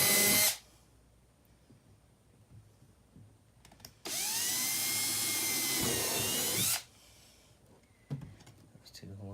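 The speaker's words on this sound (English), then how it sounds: "Go ahead and pre-drill 2 holes real quick." A power drill pre-drills two holes while a Bonafide SS127 seat update kit is installed: a brief whir at the start, then a longer steady loud drilling run of several seconds, with clicks and handling noise around it.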